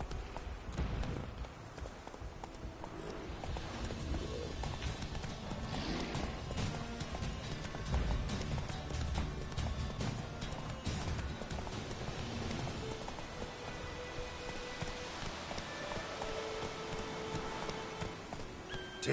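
Roach, a horse in the video game The Witcher 3, gallops with a quick, continuous clip-clop of hooves at moderate volume, joined by occasional thuds and a faint whinny-like sound.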